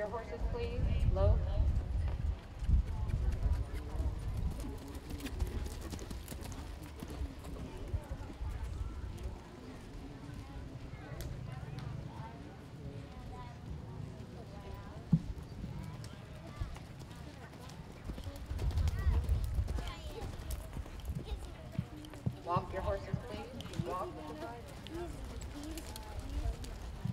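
Several horses walking and then jogging around a 4-H county fair western show arena, steady hoof clops running beneath intermittent announcer speech and ambient crowd noise.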